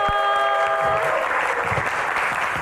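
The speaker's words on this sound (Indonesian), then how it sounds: "Tepuk tangannya mana teman-teman?" Comedy show audience greeting comedians with steady, dense applause that fills the room throughout.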